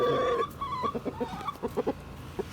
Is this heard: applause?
no